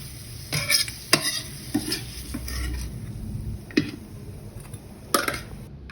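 Pork bones dry-roasting in a pan, with repeated scrapes and knocks of a utensil against the pan over a low, dry sizzle.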